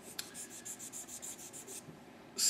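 Micro mesh sandpaper rubs the end of a fiddle tuning peg, shaping it into a dome for an 1860s-style setup. About ten soft, even strokes sound close but faint, followed by a sharper scrape at the very end.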